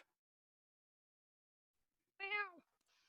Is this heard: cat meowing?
yes